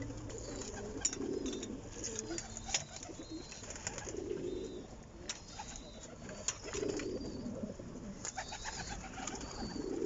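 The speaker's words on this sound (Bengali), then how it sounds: "খুব সুন্দর সুন্দর কবুতর, সব হাই ফ্লায়ার কবুতর এগুলা।" High flyer pigeons in a loft coo in low, soft, repeated phrases, with a few faint chirps, over a steady quiet room background. No one speaks.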